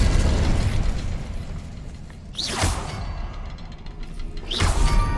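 Two fiery spell blasts in Hogwarts Legacy, each a rising whoosh ending in a roaring burst of flame, about two seconds apart over a low rumbling background, loud and close.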